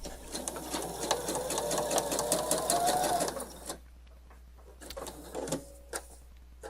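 A domestic sewing machine runs fast and steadily for about three seconds, stitching seam binding onto a garment facing, then stops, leaving a few quiet handling sounds.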